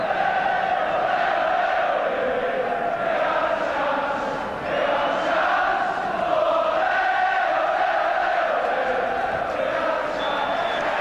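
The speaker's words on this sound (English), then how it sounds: "A thunderous cheer for another championship performance from Liverpool." A large football crowd at Liverpool v Nottingham Forest, a 1987/88 First Division match, cheers thunderously at the final whistle. The roar is continuous and broad, swelling and dipping slightly, with a commentator's voice faintly mixed in.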